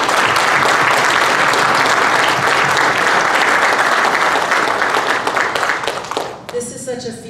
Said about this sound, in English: give them a round of applause for their hard work